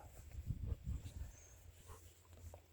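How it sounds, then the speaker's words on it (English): A happy dog whimpers and snuffles close by, a few soft low huffing bursts early on, then fainter whines over quiet background hiss. "That's a happy dog."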